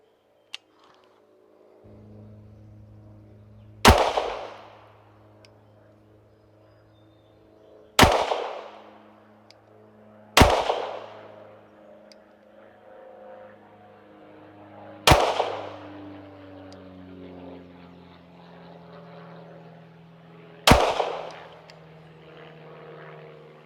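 Browning Hi Power pistol fired at 25 yards on an outdoor range, five sharp, loud single shots spaced a few seconds apart, each with a short echoing decay and a low background hum between them.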